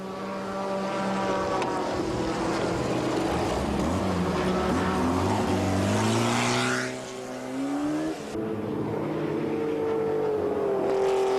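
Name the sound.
small-displacement race cars racing in the Tours d'Horloge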